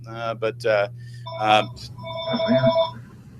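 A telephone rings for an incoming call, a bright electronic ringtone under and after speaking voices, with a steady hum running beneath.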